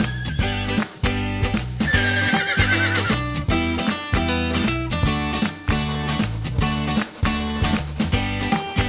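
A horse neighs loudly and repeatedly at close range, with hoof clip-clops mixed in among the calls and no voices.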